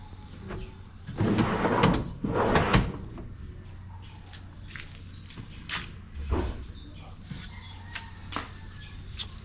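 Soft-close drawers shutting in a cabinet built into an L300 van, heard up close: a couple of longer sliding sweeps early on, then several softer closing clicks and light thumps spaced apart.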